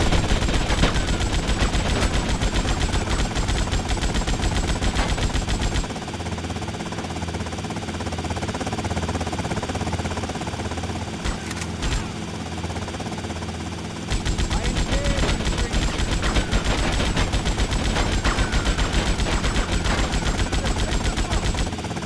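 Dense, loud automatic gunfire from a GTA Vice City shootout crackles almost without pause, dipping briefly to a lower rumble midway before the rapid bursts return at full strength.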